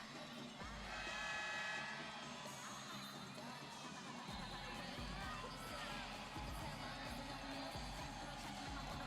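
Crowd cheering and shouting fills a large indoor arena during a men's wheelchair basketball game, Germany against Iran at the 2016 Rio Paralympics in Carioca Arena 1. The roar stays loud and continuous, with a brief swell partway through.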